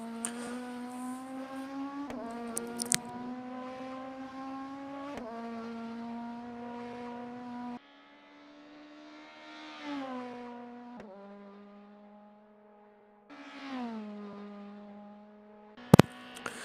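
Racing cars in a racing game league event, engines holding steady tones that rise and drop with gear changes, one car close and prominent with short gaps of quieter engine sound, no talking.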